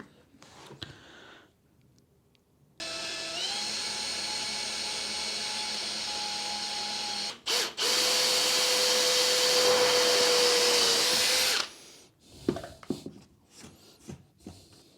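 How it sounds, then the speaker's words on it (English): A steady high whine of a power drill boring into glass for several seconds, pausing briefly, then whirring again at a slightly different pitch before stopping. "start to drill."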